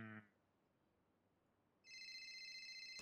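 A cell phone ringing in GTA V roleplay, a bright electronic ringtone that starts after a short, near-silent gap and then plays steadily and clearly. A brief tonal sound comes before the gap.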